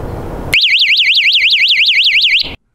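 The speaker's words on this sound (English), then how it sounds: "By turning the selector switch to the test position, the tool should alarm and the LED light array should illuminate." Bierer AV40 non-contact audio visual voltage indicator in self-test, sounding a loud, piercing warbling electronic alarm that rises and falls rapidly for about two seconds, then stops.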